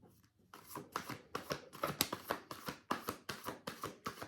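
Tarot cards shuffled by hand, a quick steady run of about a dozen crisp riffling bursts close up, each one sharp and then fading, with no talk.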